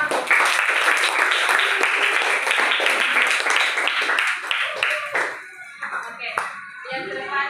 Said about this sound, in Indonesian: tepuk tangan buat Marco.